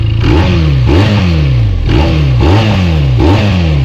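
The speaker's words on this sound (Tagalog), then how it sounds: "So that is the underbelly exhaust" A motorcycle engine revs repeatedly in quick, rhythmic blips, loud and close, its exhaust note rising and falling about five times.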